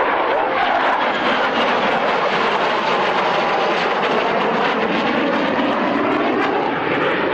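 A jet aircraft performs aerobatics at the Woodford Airshow in 1998, its loud, continuous engine roar filling the sky as it pulls up and rolls overhead.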